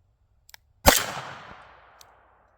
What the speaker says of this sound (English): Time to find out if this is a really nice low recoil alternative carry caliber out of this revolver.